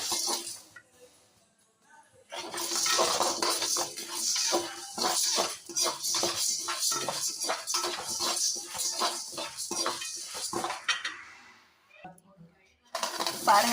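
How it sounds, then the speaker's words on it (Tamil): Toor dal, about 100 grams, dry-roasts in a pan while a utensil stirs and scrapes it, giving a steady run of rattling, clinking strokes after a quiet start, with a brief pause near the end. "இப்போ துவரம்பருப்பு வறுக்கிறோம் பாருங்க, 100 கிராம் துவரம்பருப்பு."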